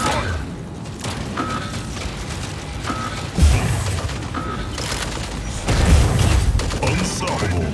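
Incoming gunfire and explosions in the Mech Arena mech combat video game, with repeated bursts and booming impacts over a continuous battle din, plus occasional beeping interface tones.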